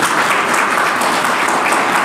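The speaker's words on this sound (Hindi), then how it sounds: "ताली बजाए ना, ताली बजाए ना" Audience clapping fills a gathering at a Hindi discipleship retreat session, a dense, steady wash of applause heard alone and loud throughout.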